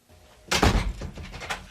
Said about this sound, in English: go inside and lock the door